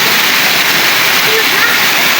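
Malinao Falls roars in a steady, loud rush of water pouring over rocks, a continuous close wash of white noise.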